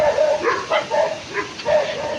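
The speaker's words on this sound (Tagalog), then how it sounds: "Daming aso." Several dogs bark and yip in short bursts at moderate distance outdoors, with a few whimpering notes and people chatting faintly in the background.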